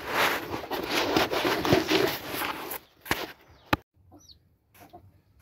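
Young broody Game hens on a farm cluck and scratch close by in a busy burst, then go quiet with a few sharp isolated knocks and faint sounds.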